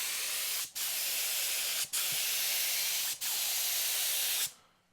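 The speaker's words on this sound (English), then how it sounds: "Okay, so we got the gun loaded up with paint." A paint spray gun loaded with Rust-Oleum car paint hisses in three long, steady bursts separated by brief pauses, loud and close, ending abruptly.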